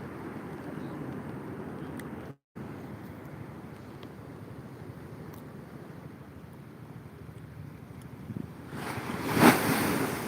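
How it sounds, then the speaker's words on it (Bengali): Sea waves break on a beach in a continuous close roar with gusty wind noise. A louder surge of crashing water builds near the end. "দুর্ধর্ষ ঢেউ হচ্ছে বন্ধুরা"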